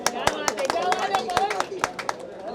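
An audience at a song launch event claps in scattered, uneven bursts, with a voice talking over the sparse applause.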